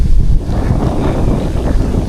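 Wind gusts steadily across a mountain trail on Mount Lawu, a loud, constant low roar buffeting the microphone with no voices.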